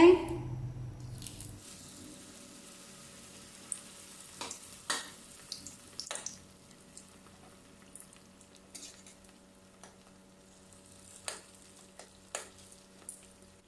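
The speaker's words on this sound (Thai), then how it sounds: "ใช้ไฟแรงในการทอดนะคะ ถ้าเราไม่ใช้ไฟแรง จะปอเปี๊ยกของเราจะอมน้ำมันได้นะคะ" Fish-filled spring rolls deep frying in hot oil over high heat, a close, steady crackle broken by scattered sharp pops and spatters.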